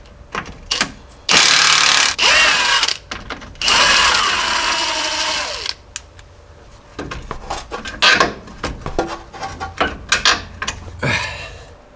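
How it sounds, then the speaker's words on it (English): An impact wrench rattles loose the 18mm steering stabilizer bolt on a Jeep Grand Cherokee ZJ in two loud, sustained hammering bursts, followed by scattered clinks and knocks of tools and metal parts. "I got a wrench on the back, and I'm just going to impact this off"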